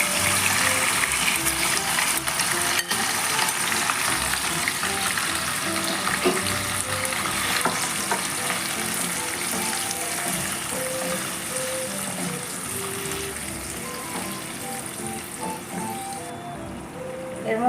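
Marinated chicken frying in oil with tempered spices for a papaya-paste chicken rezala, a steady loud sizzle and crackle that continues without a break and eases a little toward the end.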